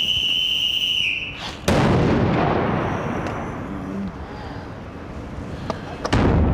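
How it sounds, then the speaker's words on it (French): A remote-detonated explosive charge placed on a suitcase outdoors at an airport goes off with a sudden loud blast, followed by a long roaring, rumbling decay and a few later bangs. "déclenche l'explosion à distance"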